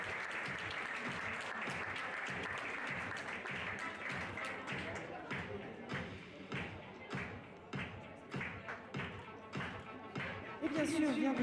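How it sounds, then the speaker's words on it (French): Audience applause for medal winners at a dressage prize ceremony thins out into scattered, separate claps and thumps, then swells again at the end, heard at moderate distance. "je vous demanderai de les applaudir bien fort, car ils le méritent"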